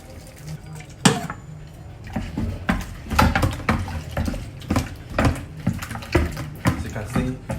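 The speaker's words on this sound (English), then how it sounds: "I'm about to wash it with hot water because it's compulsory" Hot tap water runs over catfish being washed in a kitchen sink, splashing and gurgling in irregular bursts as the fish is handled, close and fairly loud.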